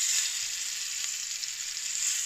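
Chicken pieces fry in a pan with a steady, bright hiss of hot oil, close and continuous, with no voices.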